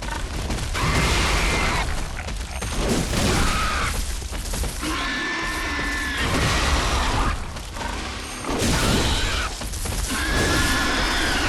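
Pigs shrieking in the video game Bloodborne, harsh squealing cries rising and falling in several loud bursts over dense, rumbling game noise and clatter.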